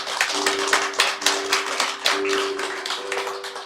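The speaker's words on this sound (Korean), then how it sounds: "서리 집사로 2023년 직분 받아서 잘 감당하시도록 박수로 격려해 주시기 바랍니다" Applause from a church congregation welcoming newly appointed deacons, a steady wash of many hands clapping with a sustained tone running underneath throughout.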